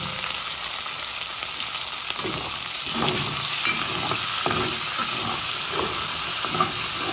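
Onions fry with salt cod in a cooking pot for rougail, sizzling steadily while a spoon stirs and scrapes the bottom in repeated strokes, close and continuous with no talk.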